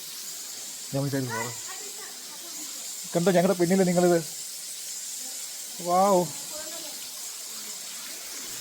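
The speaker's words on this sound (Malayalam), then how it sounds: "ഇവിടുത്തെ ഏറ്റവും ടോളസ്റ്റ് ആയിട്ടുള്ള വാട്ടർഫോൾ എന്നാണ് പറയുന്നത്" A tall waterfall at Garden of Caves pours in a steady, broad hiss that fills the background from start to finish, with a few short bursts of nearby talk over it.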